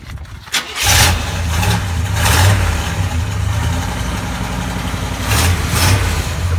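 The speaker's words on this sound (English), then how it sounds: "Complete dual exhaust front to back, done with stock style mufflers so that it's not really loud, but it still gives you that exhaust note" A 1966 Chevrolet Bel Air with complete dual exhaust and stock-style mufflers starts up and revs in a few loud, close blips over a rumbling idle.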